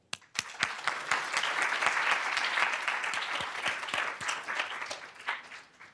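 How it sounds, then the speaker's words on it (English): A conference audience at a climate, health and equity event gives a keynote speaker a sustained round of applause, dense, many-handed clapping that starts abruptly and carries on evenly to the end with faint voices mixed in. "So I just want to really applaud you for being here"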